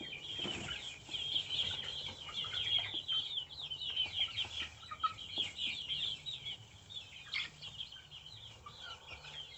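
Young chicks and hens cluck and peep continuously in a farm setting, a busy, fairly quiet chorus of overlapping calls with faint rustling beneath.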